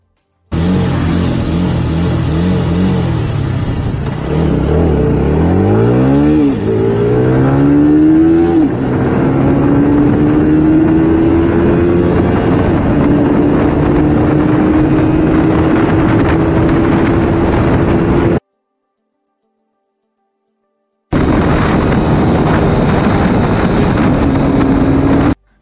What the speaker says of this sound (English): I have done a 0-100 speed test on the Apache 160 4V